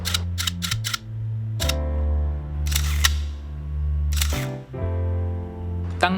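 A Nikon FA film camera fitted with an MD15 motor drive fires through the rest of a film roll: a rapid series of sharp shutter clicks, each followed by a whirring motorized film advance, close and loud with no talking.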